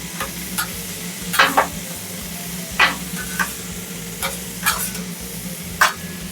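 A burger sizzles on a hot cooking surface in a cafe kitchen. A spatula scrapes and taps sharply several times as the patty is flipped and cooked, over a steady frying hiss.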